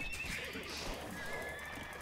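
A horse whinnying in the Age of Empires 2 strategy game, a single clear neigh at moderate level against a faint battle background, no one speaking over it.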